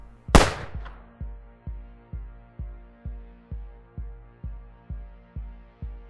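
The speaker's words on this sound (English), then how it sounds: "Shots went off" A single sharp gunshot cracks out in The Sims 4, followed by a steady, evenly spaced thumping beat that pulses on alone until the end.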